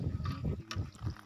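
Old, rusty radiator water drains from the engine of a VST Shakti 130DI power tiller, gurgling and splashing in short uneven pulses, faint and close.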